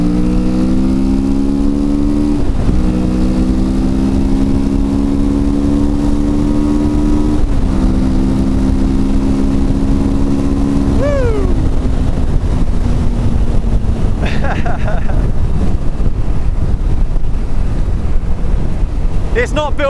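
A 2024 Kawasaki Vulcan S 650 motorcycle engine pulls steadily through several rising gears, each upshift marked by a brief dip, with loud wind rush over the microphone throughout.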